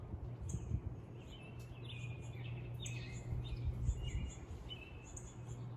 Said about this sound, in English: My dog is aggravating the little birds.